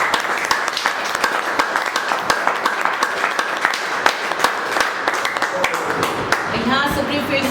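Steady applause from a large audience at a staff leaders' meeting, dense continuous clapping with individual sharp claps standing out, lasting throughout and fading slightly at the end as a voice begins.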